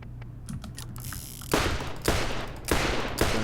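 Heavy explosive-round gunfire in Borderlands, four loud booming shots spaced slowly apart after a stretch of quieter clicking and game noise, with the last three shots evenly paced.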